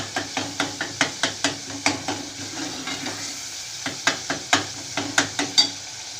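Minced meat keema for matar keema being stirred and fried in browned masala with oil in a pan: repeated crisp spoon scrapes and clatters in an uneven rhythm over a low continuous sizzle, close and fairly loud, with a brief lull midway.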